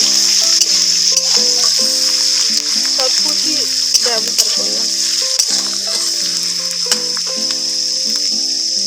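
Chopped onions fry in oil in a pan with a steady, bright sizzle and occasional stirring scrapes, under quiet background music, while a voice speaks briefly.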